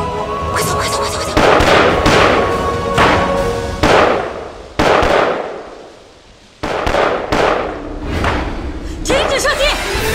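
Gunfire in a war drama: loud, sharp shots and blasts in irregular bursts with echoing tails, a short lull in the middle, then more rapid shots.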